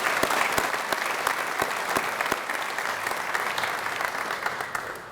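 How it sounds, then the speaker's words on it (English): Steady applause from an audience at a fitness and recreation center dedication ceremony, dense clapping filling the whole stretch at an even level and tapering slightly at the end. "So let's give a round of applause to them."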